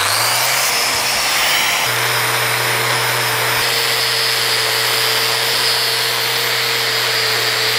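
A drill-mounted wire wheel spins against wood, scorching it, giving off a loud, continuous high-pitched whine with a steady motor hum beneath and slight shifts in pitch as pressure changes.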